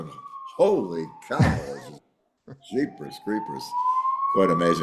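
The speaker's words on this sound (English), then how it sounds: "Pardon the siren." A police car siren outside in Madrid, a long steady wailing tone rising slowly in pitch, heard faintly beneath close conversation between two men.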